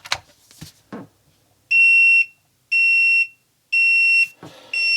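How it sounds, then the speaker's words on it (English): A Dovoh self-leveling laser level sounds its off-level warning: loud, steady electronic beeps, four long tones evenly spaced, preceded by a few handling clicks and thumps. "it'll immediately blink the lasers and give you a beep"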